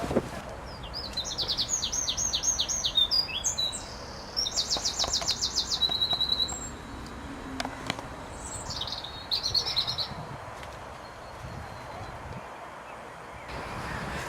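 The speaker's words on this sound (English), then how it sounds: "I want to get their tweeting" Birds at an urban farm tweet in bright, rapid chirping trills, loud at first and then sparser and fainter, over a low outdoor ambience with occasional handling noises.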